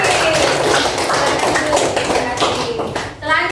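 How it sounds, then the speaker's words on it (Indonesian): A class claps for a classmate after his answer about sacrifice, a loud, steady burst of close clapping with voices mixed in and a brief lull near the end. "Tepuk tangan untuk Habib."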